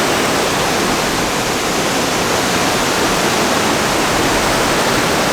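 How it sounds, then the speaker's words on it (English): Steady, loud rushing water fills the whole stretch, a dense continuous roar like a nearby waterfall or fast stream at an abandoned mill, with no voices. "so that rushing water, I mean, it really helped me sleep"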